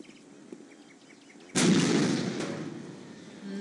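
A sudden loud burst of crackling, booming bangs from fireworks in the game Postal 2: A Very Postal Christmas, lingering and slowly fading, with quieter clicks before it.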